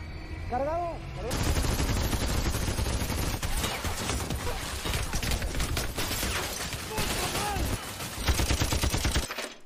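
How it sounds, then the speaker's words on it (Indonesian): An M2 heavy machine gun fires in a film scene, loud sustained bursts of rapid gunfire crackling up close, mixed with other battle noise and a voice talking over it. "Josefo mempersiapkan senjata M2 untuk menghantam mereka"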